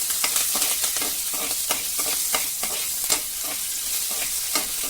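Green chillies fry in a pan with urad dal and cumin for a ridge gourd stir-fry, a loud close sizzle punctuated by repeated spatula scrapes and stirs, with no voices.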